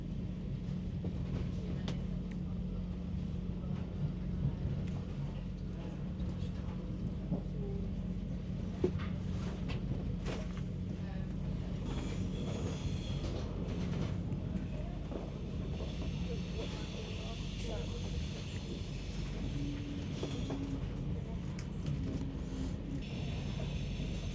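An RE 6 double-decker regional train rolls into the covered station on Sylt, a steady low rumble and hiss heard from on board with occasional faint clatter.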